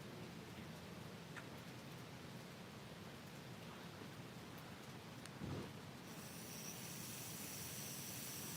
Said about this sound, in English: it actually does rain down a little bit onto my porch